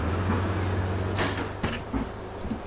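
Bus doors close in the bus simulator game Omsi 2, a pneumatic hiss and sliding thump followed by a couple of lighter knocks, over a steady low idling hum.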